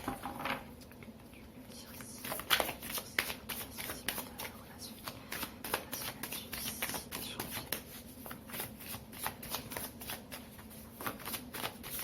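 Tarot cards are shuffled by hand in a quiet room, a soft, rapid run of papery riffles and flicks repeating in quick bursts for several seconds.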